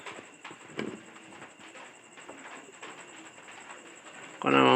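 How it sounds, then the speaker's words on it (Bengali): Soft pigeon coos rise and fall over a steady background hum, ending with a sudden louder burst of noise. "এই যে কবুতরটা, এটা কনার মায়ের কাছ থেকে নিয়েছিলাম।"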